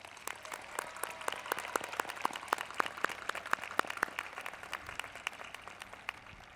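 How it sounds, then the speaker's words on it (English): A graduation audience at a 2015 Shawnee Mission West ceremony applauding at a distance, a sparse, steady patter of individual claps that stays fairly faint throughout. "Let's take a moment, graduates, and give our parents, brothers, sisters, grandparents, aunts, and uncles a huge round of applause."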